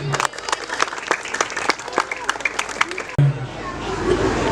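Applause from an audience at a Pekalongan city event marked by a batik display, a dense patter of clapping with crowd murmur running through it, cut off abruptly near the end into a softer wash of noise.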